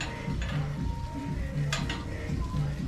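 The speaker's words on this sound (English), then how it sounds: "my garlic, everything is still frying up" Garlic and jeera frying in a hot pan for a Guyanese curry, giving a steady close sizzle with light utensil scrapes and stirring clinks throughout.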